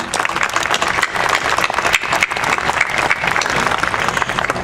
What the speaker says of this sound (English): he certainly deserves a round of applause